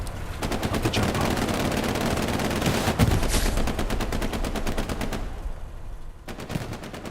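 Machine gun fire in the Hell Let Loose video game, a dense run of rapid, evenly spaced shots that keeps going for about five seconds, briefly breaks off, then resumes in a short burst amid other distant battle noise.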